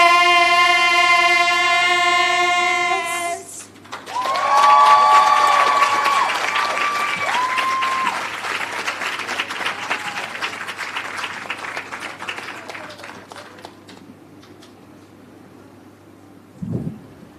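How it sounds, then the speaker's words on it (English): At an awards ceremony for a heritage competition, a tonal musical chord gives way to a crowd applauding and cheering, the clapping loud at first and gradually thinning and fading toward the end. "give them another round of applause"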